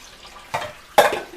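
Water is poured into a pan of fried chicken for a curry, heard as two short splashing bursts with a brief sizzle close by.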